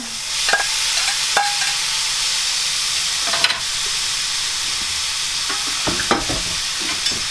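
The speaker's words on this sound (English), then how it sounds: "this is just going to need to saute just a few moments because the potatoes were already cooked" Already-cooked potatoes and garden vegetables sauté in a large pan, a steady loud sizzle and hiss with occasional scraping stirs from a utensil, up close with no talking.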